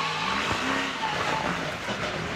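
On-board sound from a NASCAR Pinty's Series race car, a continuous loud engine and road roar filling the whole stretch with no talk.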